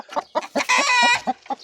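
Chickens cluck in short repeated bursts close by, with a rooster's drawn-out crowing rising through the middle of the clucking in a farmyard coop.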